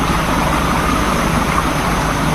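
Motorcycle engines in a hitman-themed video game drone as they approach, a continuous loud, rough engine roar with broadband noise and no speech.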